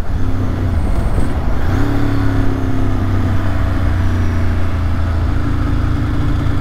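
A 2006 Ducati Monster S4RS engine drones steadily while riding, a continuous close, loud hum with a slight pitch rise partway through and no talk over it.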